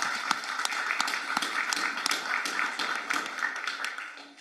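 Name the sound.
audience applause for the state champions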